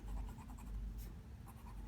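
Hero 330 fountain pen writing on A4 paper with light pressure, a soft, continuous scratchy nib sound with small strokes, close and quiet.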